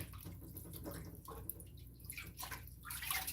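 Running water from a tap rinses salted mackerel in a kitchen, a steady close splashing and dribbling flow with no talking.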